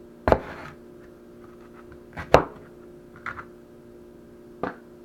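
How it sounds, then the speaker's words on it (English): A knife cuts through a potato on a cutting board in a quiet kitchen, making a few sharp isolated chops with long silent gaps between them. "Cutting the potato in half."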